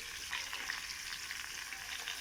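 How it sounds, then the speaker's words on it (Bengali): Potatoes frying in refined oil in a kadai, a steady, even sizzle with crackling spatter, close and continuous, with no voices. "আলুগুলো প্রথমে ভেজে নেব।"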